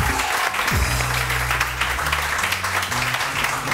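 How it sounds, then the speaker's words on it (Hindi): Studio audience applause on a morning television show, a continuous wash of clapping beneath loud band music with deep bass notes. "please put your hands together for Christina Albert"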